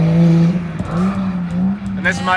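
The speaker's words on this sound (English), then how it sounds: "we went to Higashi course and we watched some nighttime drifting" Drift cars at night on the Higashi course at a drift matsuri, a loud steady engine drone held close with a brief tire squeal near the end, while a person talks over it.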